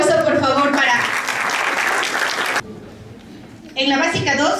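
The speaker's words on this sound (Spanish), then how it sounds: "Un aplauso, por favor" Applause at a school award ceremony, a loud wash of clapping mixed with talk from the announcer, broken by a brief quieter gap before the clapping and voices resume.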